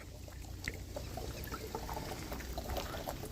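A thin stream of clear spring water from between two hills trickles steadily into a bottle set under the seep, a soft continuous pour heard close and alone, with no talking.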